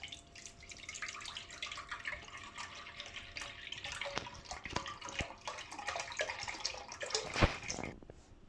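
Milk streams into a pot as the base for a magnolia pudding, a steady liquid pouring and trickling sound running throughout, with a few sharper drips and splashes near the end.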